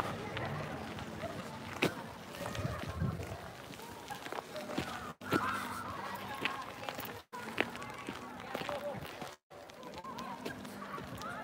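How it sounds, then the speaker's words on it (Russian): Ducks honk and quack off to one side during a street walk in Anadyr, Chukotka, mixed with footsteps and outdoor noise while a person talks. "Справа утки"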